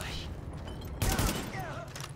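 Gunfire in the shooter game Tom Clancy's The Division, a sudden loud blast of shots midway over background noise and faint game sounds.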